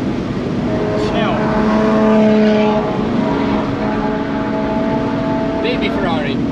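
Engine drone of a VW Atlas SUV climbing uphill at about 100 mph with four people aboard, a steady sustained hum with wind and road roar, while occupants talk over it throughout.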